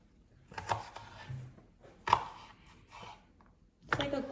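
A knife chops onion into small dice on a cutting board, giving three separate bursts of sharp, close cutting strokes with quiet gaps between them and no talking.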